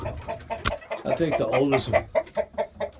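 Older backyard chickens cluck in quick repeated bursts, close and fairly loud, while a person talks over them.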